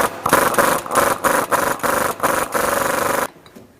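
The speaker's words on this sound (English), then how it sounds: "you're going to need an impact wrench to handle this job" Impact wrench rattling off the pinion nut on a Ford Mustang differential, loud and close, in a rapid pulsing burst of hammering bursts lasting about three seconds before cutting off.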